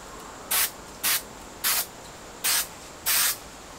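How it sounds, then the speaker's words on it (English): A spray coating is misted along the spars and tip ribs of a model aircraft's wooden frame in five short, even hissing bursts, close and crisp, separated by brief pauses over a faint background hiss. "So we're going to spray along the spars."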